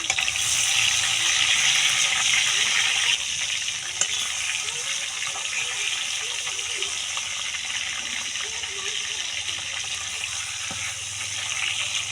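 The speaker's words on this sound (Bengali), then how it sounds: "মাছগুলো লাল লাল করে ভেজে নেবো" Fish fries in oil heated in a wok, giving a steady bright sizzle that is loudest at first and then settles into a softer crackle, with faint kitchen clatter.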